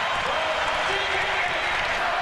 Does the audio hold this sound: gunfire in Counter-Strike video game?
no